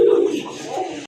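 A male pigeon for sale at a Bangladeshi pigeon market coos in one loud, close, continuous low phrase, with no talking over it.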